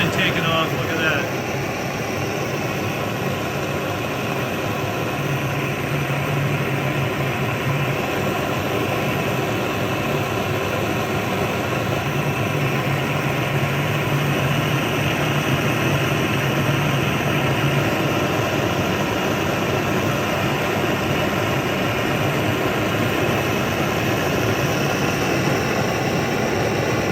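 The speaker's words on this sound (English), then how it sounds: "Blowtorch action right there." A vintage Otto Bernz blowtorch with its valve cranked wide open gives a steady, loud, jet-like roar that runs unbroken throughout, with a person talking over it.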